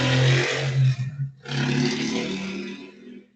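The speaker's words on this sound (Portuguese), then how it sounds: "parece que a moto passou em cima da mesa aqui da escrivaninha que eu estou." A motorcycle passes right outside, its loud roaring engine filling the room in two close bursts separated by a brief dip, with no talk over it.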